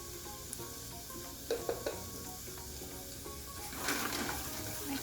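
Thyme leaves and cumin seeds fry in a pan with a quiet, even sizzle, a few light taps and crackles, and a swell of louder bubbling hiss toward the end.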